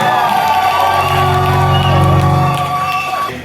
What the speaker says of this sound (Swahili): Tupige vigelegele na makofi.